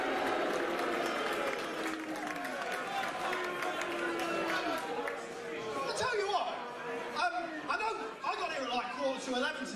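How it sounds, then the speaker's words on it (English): Applause rises from the crowd at a professional wrestling show as the referee is introduced, mixed with chatter and some laughter, while a voice talks over it throughout. "A round of applause, please, for referee Chris Roberts"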